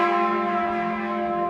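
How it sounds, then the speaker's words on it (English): Church bells ring in Hamelin, a steady sustained metallic tone with rich overtones, loud and close, holding evenly throughout with no voices. "The church bells ring as they have for centuries, calling people to reflection."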